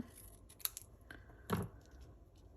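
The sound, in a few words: scissors trimming papercraft card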